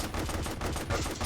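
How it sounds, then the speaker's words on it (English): Rapid machine gun fire in a fast-paced competitive video game match, a dense burst of continuous shots, loud and close throughout with no talk. "Oh, Toxic is so good with the machine guns."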